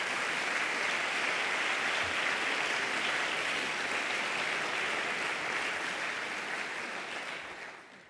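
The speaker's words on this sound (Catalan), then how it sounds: "Un fort aplaudiment per ells, sisplau." Audience applause fills a literary awards ceremony in Girona, a dense, steady wash of clapping from a large crowd that holds evenly for several seconds before tapering off at the end.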